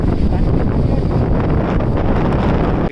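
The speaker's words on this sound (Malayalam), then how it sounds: "ശക്തമായ കാറ്റ് കാരണം നമുക്കിപ്പോൾ വണ്ടി ഓട്ടിക്കാൻ സാധിക്കാത്തത് കൊണ്ട്" Strong wind roaring on a mountain road during a motorbike trip around Manali, strong enough to snap tree branches; a loud, continuous buffeting blast that fills the whole stretch before cutting off abruptly at the end.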